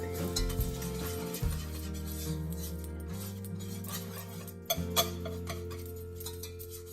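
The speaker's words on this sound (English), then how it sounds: "you want to just mix that in really good. We're not making a dark roux." A white roux of flour and butter is stirred in a pan, with a spoon scraping and clicking against the metal over a light sizzle, close and steady with no talking.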